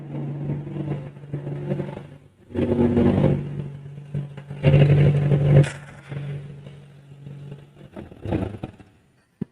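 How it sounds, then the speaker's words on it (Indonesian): A motorcycle engine runs close by during a spark plug adjustment, its rumble rising and falling in uneven surges with some mechanical clatter, fading out near the end. "Mesinnya suaranya stabil apa enggak?"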